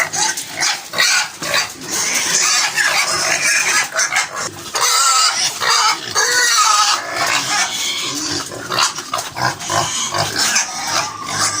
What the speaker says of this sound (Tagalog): So, nagwawala na rin yung ating mga fatteners.